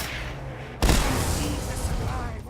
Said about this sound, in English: you'll even get what's called a thunderpoon, which is not a harpoon that shoots electricity like I thought, but in fact is in essence a rocket launcher